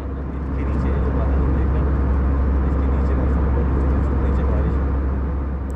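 A steady, loud, low rumbling drone fills the cabin as a passenger airplane flies through clouds above northern Pakistan near Skardu, constant engine and air noise without change.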